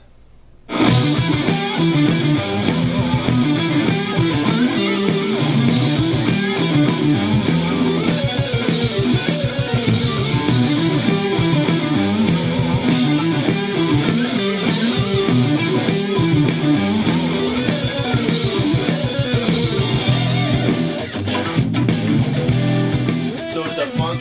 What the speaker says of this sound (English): I added a doubled up lead guitar, an octave higher. Sounds like this.